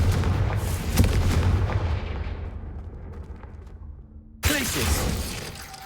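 A Confringo fire spell in Hogwarts Legacy goes off as a loud, booming blast that rumbles and fades over several seconds, then a second sharp burst hits near the end.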